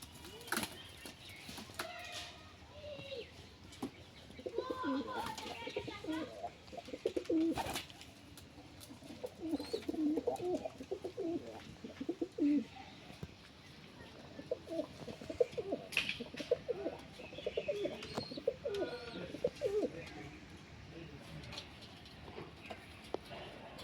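Male pigeon cooing to call a female, soft repeated low coos near the coop, mixed with rustling, scattered clatter and occasional wing flaps at low volume throughout.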